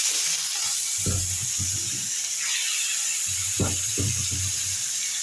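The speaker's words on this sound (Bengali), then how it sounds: "এখন আমি এই লবণ আর হলুদ দিয়ে মাছটাকে ভেজে নেব।" Pangas fish frying in a pan with salt and turmeric gives a steady, close hiss of sizzling oil throughout, broken by a few short, low knocks or bumps.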